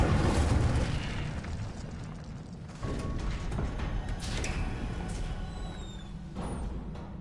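The Incendio fire spell cast in Hogwarts Legacy, a burst of whooshing flame with a low boom and crackle, moderately loud, followed by a lingering rumble and a second swell near the end.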